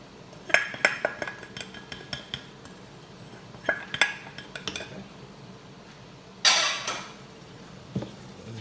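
Utensil stirs a mixture inside a container, with scattered clinks and scrapes coming in short bursts, then a brief harsher rasp near the end.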